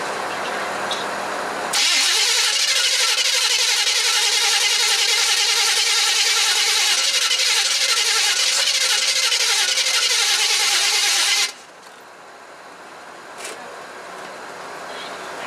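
A '78 vehicle with a carburetor, not run for two years, roars to life after a quiet moment and runs loud and rough for about ten seconds, then cuts out abruptly.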